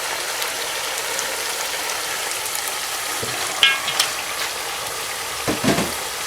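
Mutton chops for aloo gosht fry over a high flame, a steady close sizzle and hiss running throughout with a few brief clinks and stirring knocks toward the end.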